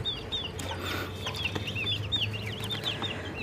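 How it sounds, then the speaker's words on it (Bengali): Local deshi chicken chicks peep repeatedly in quick high chirps at a poultry farm, with a low steady hum beneath and occasional soft clucks close by. "দেশি মুরগির বাচ্চাগুলো আছে"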